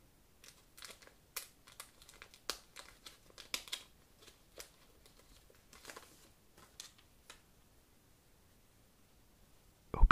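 A Dragon Ball card booster pack wrapper crinkles and tears in quiet, close, irregular bursts of rustling, with brief pauses between handlings and a sharper rustle at the very end.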